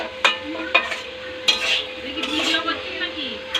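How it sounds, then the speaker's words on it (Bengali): Mutton frying in a pot and stirred with a metal spoon, sharp clanks against the pot at intervals over a steady sizzle. "মাংসটা নেড়ে নেওয়া হচ্ছে, আর ভাজা আলুটা দেওয়া হবে। মাংসটা নাড়া হচ্ছে।"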